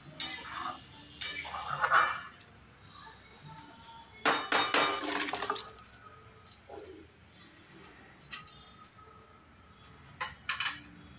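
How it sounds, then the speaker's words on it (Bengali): Moong dal and rice khichuri stirred in a pot, bursts of spoon scraping and clinking against the metal in several separate spells with quieter gaps, close and moderately loud. "আমি ভালো করে নেড়ে জল দিয়ে দেবো।"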